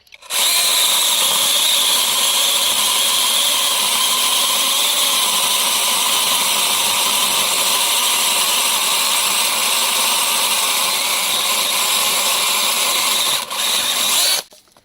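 An AL-KO 18V cordless chainsaw runs continuously while cutting wood, a loud, steady high-pitched motor whine that holds for most of the time before briefly dipping and cutting off at the end, with no talking.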